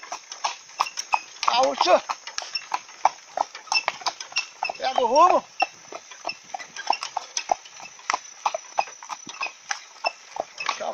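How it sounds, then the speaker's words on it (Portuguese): Hooves of a Gaúcho horse clip-clop steadily in a marcha picada gait while it pulls a charrete, a quick, even rhythm that runs the whole time, close by, with a man calling out over it and a brief whinny-like sound in the middle. "Cavalo da marcha picada, da marcha batida."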